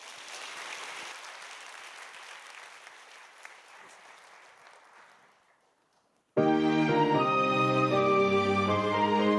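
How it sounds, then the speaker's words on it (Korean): A church congregation applauds at a family praise festival, broad dense clapping that swells and slowly fades over about six seconds before a choir and instruments abruptly begin. "큰 박수로 맞아주십시오"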